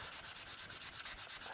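A 240 grit sanding block rubbed over the wooden back of an acoustic guitar in quick, steady back-and-forth strokes, about eight per second, giving a close, even, hissing scrape with no voices.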